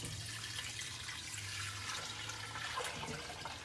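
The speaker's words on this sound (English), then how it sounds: "I'm going to pour my broth over the rice." Broth is poured over rice in a pot while making chicken and rice at home. A steady, close liquid rush continues without a break, with no talk.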